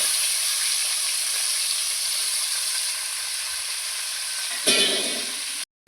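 Half a kilo of chicken frying in hot oil with turmeric, a steady loud sizzle and hiss close by that swells briefly near the end before cutting out.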